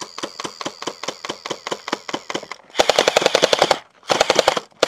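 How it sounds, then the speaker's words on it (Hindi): An electric, automatic gel blaster machine gun fires at targets in rapid, bursty volleys. The loud, sharp cracks come in quick repetition, with brief pauses between bursts. "पहले मशीन गन से टारगेट करता हूँ"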